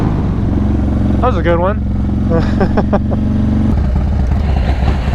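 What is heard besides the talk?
motorcycles revving past, Yamaha MT-09 among them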